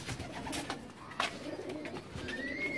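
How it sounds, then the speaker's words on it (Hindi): A pigeon coos softly in a few low, throaty murmurs, close by against a quiet background with small rustles and a faint higher bird call near the end. "ये है जी कबूतर जो कि अभी आया और मैंने पकड़ा।"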